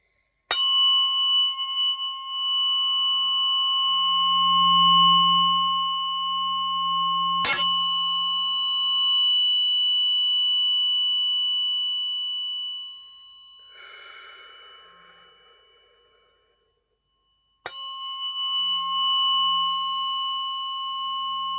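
Tuning forks ring with pure, sustained metallic tones, struck once near the start and again midway, each note hanging and slowly fading, with soft breathing-like noise beneath and a quiet gap before a final strike.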